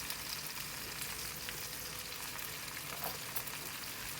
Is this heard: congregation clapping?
no